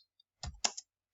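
A few quick keystrokes on a computer keyboard while a date is typed in, two short clustered bursts of clicks, close and alone in a quiet room.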